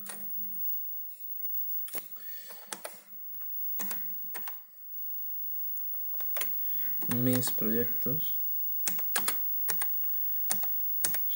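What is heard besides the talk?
typing with left hand on an Amstrad 6128 Plus keyboard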